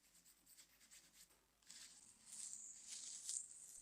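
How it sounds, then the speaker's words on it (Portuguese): A pencil sketches a shape onto adhesive tape laid over furniture veneer, making a soft, continuous scratchy rubbing that grows a little louder partway through, faint and close with no talking. "Posso usar um lápis para esboçar a forma."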